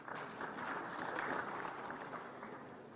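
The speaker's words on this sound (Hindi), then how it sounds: "मंच का हम पूरे सम्मान के साथ तालियों की गूंज के साथ अभिनंदन करते हैं।" Applause from the audience welcoming honoured guests on stage at the 84th All India Presiding Officers' Conference in Maharashtra, a steady wash of many hands clapping continuously at moderate level for the whole stretch.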